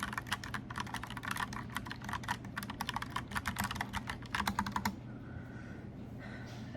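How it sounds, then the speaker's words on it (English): Rapid, steady clicking of a mechanical keyboard in a quiet room, close and crisp, with the keystrokes stopping near the end, leaving soft background hiss. "I hope you enjoyed the typing noises"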